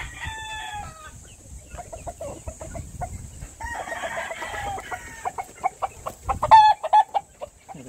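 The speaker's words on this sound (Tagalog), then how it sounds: "Manok na may tatlong kulay." Tricolored chickens clucking at a hillside coop, scattered soft clucks and calls near and far, a rooster crowing partway through, and louder close clucks building toward the end.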